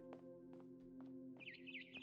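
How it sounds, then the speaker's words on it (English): Barn swallow chirping in the video game What Remains of Edith Finch: a few short, soft chirps spaced out over a steady low hum, then a quicker warbling trill near the end, all quiet and distant. "Then I heard chirping outside my window."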